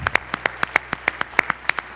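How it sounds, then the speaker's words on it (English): Scattered hand claps ring out at a leadership conference closing, a dozen or so sharp, uneven claps from a small group with no talking. "one last round of applause for the website and for all those involved"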